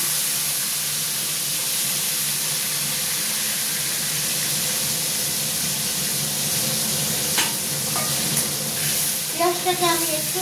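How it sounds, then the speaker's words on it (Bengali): Chopped onions fry in a pan toward golden brown, making a steady, moderately loud sizzling hiss, with faint clinks and a brief voice toward the end. "পেঁয়াজটাকে আমি একটু লাল করে, যাকে বলে গোল্ডেন কালার করে ভেজে নেব।"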